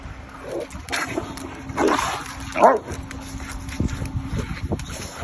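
Two dogs scuffle with short growls, yelps and whimpers in scattered bursts, fairly faint against background noise.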